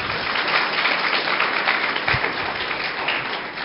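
An audience at Ved International School applauds in a brief, fairly steady burst of clapping heard from a short distance.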